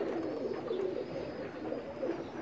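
Soft, low cooing from a pair of Pakistani pigeons runs steadily throughout, a continuous murmuring warble close by with no voices.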